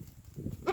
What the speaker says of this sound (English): There's a goat here.